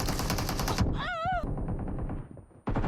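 Loud bursts of rapid automatic gunfire from an AKM or M416 rifle in a video game, dense and sustained, broken by a brief rising electronic whine before the firing resumes.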